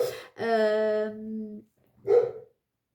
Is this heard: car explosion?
no